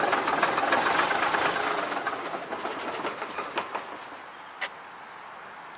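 A 1963 Mack B81 diesel truck engine cranks over on its starter in a rough, churning rumble that fades after a couple of seconds into a quieter rattle with a sharp clank near the end, close by, with no talking.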